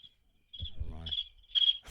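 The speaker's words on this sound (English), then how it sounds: "there actually is crickets in the background" Crickets chirping in short repeated high bursts in the background, with brief low talk in between.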